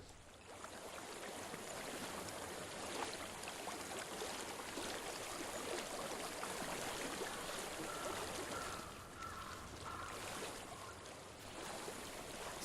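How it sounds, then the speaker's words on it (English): Flowing stream water in the video game Hellblade: Senua's Sacrifice, a steady broadband rush of running water that fills the whole stretch at an even level, with a faint brighter tonal trace partway through and no talking. "I hear water. Go to it."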